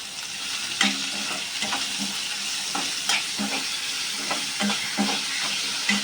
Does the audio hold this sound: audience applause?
no